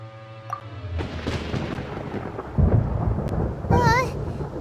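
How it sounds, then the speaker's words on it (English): Thunder in the video game Genshin Impact, a deep low rumble that swells and rolls for several seconds with a brief bright chiming game effect near the end and no talking. "Paimon hears thunder!"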